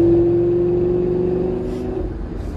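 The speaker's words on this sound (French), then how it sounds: "Voilà, ce passage de vitesse." A Lamborghini Gallardo LP570 V10 engine holds a loud, steady tone that drops and breaks as a gear shift comes through, close up and with no talk over it.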